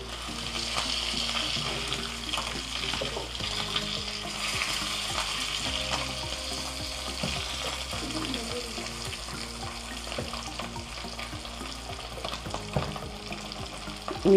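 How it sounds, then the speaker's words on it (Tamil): Fish shallow-frying in hot oil in a home kitchen pan: a constant close sizzle and crackle, with scraping clicks and clatters from a utensil turning the pieces. "இப்போ மீன் வந்து நல்லா வெந்து ஒரு பொன்னிறத்தில் வந்து கொண்டு இருக்குது"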